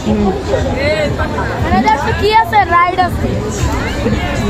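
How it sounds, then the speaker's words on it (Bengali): A dense crowd hubbub of many overlapping voices at the 30th international trade fair, with nearby people talking over the constant babble. "এতগুলো মানুষ ভিড়"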